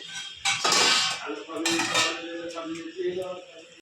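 A metal lid set onto a cooking pan of lotia fish curry gives two bright clattering clanks followed by a ringing metallic resonance that fades out, close and fairly loud.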